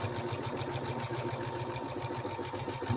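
Embroidery sewing machine stitching as it quilts a baby blanket, a rapid even mechanical hum with a regular needle rhythm, steady and close throughout at a soft level.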